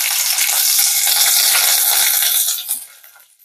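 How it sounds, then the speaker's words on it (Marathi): Curry leaves crackle and sizzle loudly in hot oil with cumin and mustard seeds for a tempering, a dense steady frying hiss that fades out near the end. "त्यानंतर घालायचा आहे कढीपत्ता"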